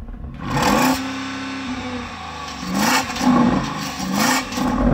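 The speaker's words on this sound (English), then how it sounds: "let's hear the Porsche Cayenne Turbo GT" A Porsche Cayenne Turbo GT engine revs loudly and close, in repeated surges that rise and fall against a soft limiter, with no talking over it.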